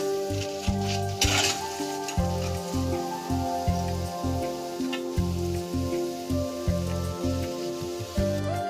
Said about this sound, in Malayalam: ഇതിങ്ങനെ ഇളക്കുന്ന സമയത്ത് ഒരു ക്രിസ്പി ആയിട്ടുള്ള ഒരു സൗണ്ട് കേൾക്കാം